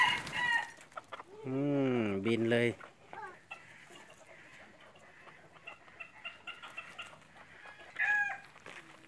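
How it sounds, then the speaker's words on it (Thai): Several junglefowl clucks and a crowing call ring out close by, followed by softer scattered bird sounds, with a person speaking briefly. "ไก่ป่านะครับ พ่อแม่พันไก่ป่านะครับงามสุดๆแล้วนะครับ"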